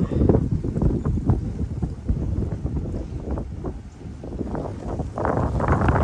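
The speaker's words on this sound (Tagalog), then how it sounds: "Lakas ng hangin." Strong wind on an island buffets the microphone in loud, continuous low rumbling gusts, with no other sounds standing out.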